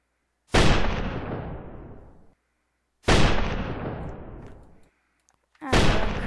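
Sniper towers firing in the Roblox game Tower Battles: three loud, booming shots spaced a few seconds apart, each a sharp blast trailing off into a long rumbling decay.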